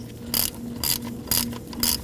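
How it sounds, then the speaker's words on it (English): A hand ratchet snugs the nut on a new starter of a 2011-2016 Kia Optima, giving four short, evenly spaced bursts of rapid clicking, close and alone. "And now install the nut. For this, we just simply have to get it snug."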